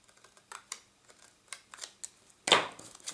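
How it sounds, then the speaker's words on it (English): Scissors snipping through card from the back while making a Christmas card, a series of small sharp close clicks and snips with one louder cut near the end, quiet overall. "I always like to cut from the back. So I'm just going to go in."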